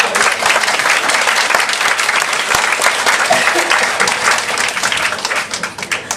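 An audience at a business seminar breaks into sustained, dense applause that stays steady and fairly loud throughout, with many hands clapping together and no clear speech.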